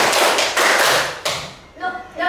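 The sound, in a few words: children clapping hands four times in a clapping exercise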